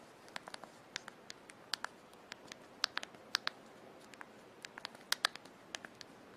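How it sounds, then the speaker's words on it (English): Clicky keystrokes from a noisy full QWERTY keyboard, tapped in an uneven patter of sharp, fairly faint presses with short pauses between bursts, close by and with no talking. "noisy keyboard"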